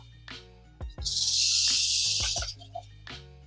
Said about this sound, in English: You can hear that. He's definitely not a sleepy cold rattlesnake anymore.